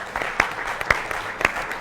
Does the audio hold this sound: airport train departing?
no